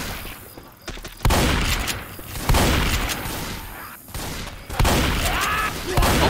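Shotgun blasts and gunfire in the zombie game Left 4 Dead, loud booming shots in several bursts with pauses between, up close amid chaotic action.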